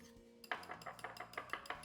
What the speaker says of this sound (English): Mix it again.